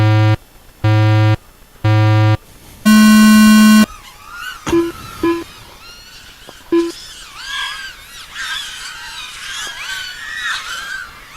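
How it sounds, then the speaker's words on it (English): Race start beeps at a 2024 memorial race: three short, loud electronic beeps at an even pace, then a longer, higher start tone, followed by scattered pulses, clatter and crowd noise. "On the beeps."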